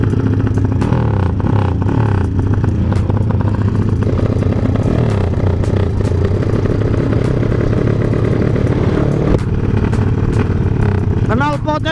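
A motorcycle fitted with a loud CJDW Budinn exhaust revs up close by in repeated throttle blips, the engine rising and falling in bursts with a rough, booming tone, while voices can be heard nearby.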